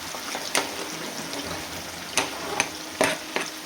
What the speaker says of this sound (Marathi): आता हा सगळा कांदा मी एकत्रच तळणार आहे.